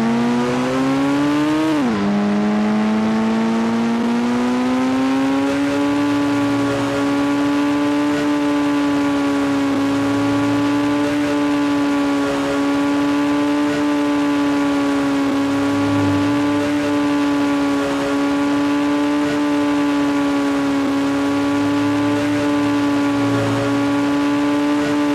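A motorbike engine in the Indian Bikes Driving 3D video game holds a steady, loud synthetic drone, revving up sharply near the start and then sustaining a constant pitch with slight wobbles for the rest of the stretch.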